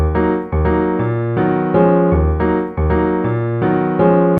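Notation-software playback of a jazz tune rearranged into straight 3/4 time, a clean synthesized piano-like vamp with steady low bass notes and repeating chords, continuous and fairly loud, no voice.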